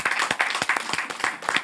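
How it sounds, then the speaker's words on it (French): Audience at a seniors' cultural event claps for an orchestra leader: a modest, close group applause with distinct, rhythmic hand claps spaced evenly throughout. "une femme, Nicole, que je vous demande d'applaudir très fort pour son courage."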